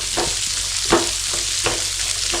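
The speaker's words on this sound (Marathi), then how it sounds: "कंटिन्यू तुम्हाला ते स्टेअर करतच राहायचं आहे, असं सर्व हलवतच राहायचं आहे सर्वाला" Corn fries in hot oil in a pan over a medium flame, with a constant loud sizzle broken by several rhythmic scraping strokes of a spoon as it is stirred continuously; no one speaks.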